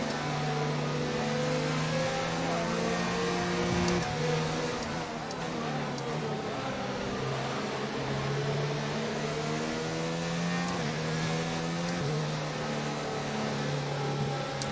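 Simulated Formula 1 car from the F1 2019 racing game, warming up on a lap of the Spanish Grand Prix, its engine tone climbing and dropping with each gear change in a steady, continuous drone with no talk over it.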